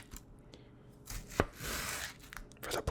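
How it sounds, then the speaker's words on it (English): A few quick knife cuts through a tomato on a board, close and quiet, with small crunchy chops spaced unevenly. "I just want to cut up this tomato so it's a little bit easier"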